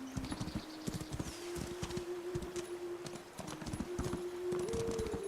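Horse hooves clip-clopping at a steady walking rhythm in the Where Winds Meet video game, close and clear over a continuous tonal game hum, with a brief whinny-like cry.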